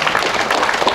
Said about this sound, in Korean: 박수로 성원해 주시면 고맙겠습니다